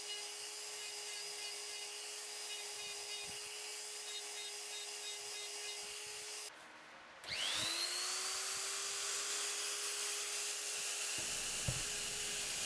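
A rotary carving tool with a ball-nosed carbide bit whines steadily as it textures wood. The tone drops out briefly, then spins back up and carries on with a continuous high buzz.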